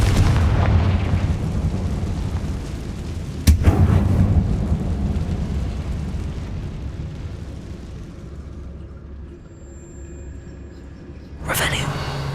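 A Confringo blasting spell goes off in Hogwarts Legacy inside a closed mine that looks like a tomb, giving a loud rumbling explosion with a sharp crack near 3.5 seconds, a long decaying roar, then another burst near the end.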